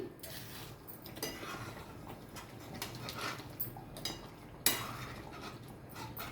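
A spoon stirs Mughlai egg curry with kasuri methi in a pan, making soft scraping strokes and scattered metallic clinks, fairly quiet, with one sharper clink.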